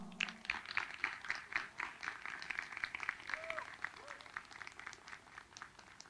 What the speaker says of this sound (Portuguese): peço uma salva de palmas e agradeço o nosso cerimonial